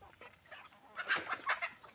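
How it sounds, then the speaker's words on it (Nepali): Chickens cluck close by in short, soft bursts that grow louder and busier toward the end, around a chicken and goat coop being cleaned. "आयो है मेरो कुखुराहरू"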